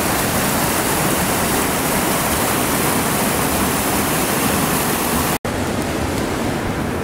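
Steady rushing water, a constant broad hiss like a creek flowing over rocks, loud and close throughout with a brief cut near the end.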